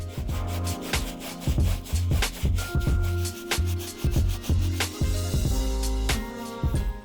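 A medium bristle brush with white bristles scrubs the upper of a worn Nike SB Nyjah Huston sneaker, giving close, rhythmic bursts of rubbing strokes that keep a steady back-and-forth pace with no talking.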